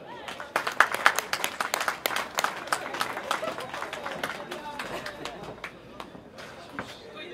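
Scattered, fairly quiet applause at a women's youth cycling race award ceremony in Heule, with individual claps popping out unevenly while a voice speaks over the crowd.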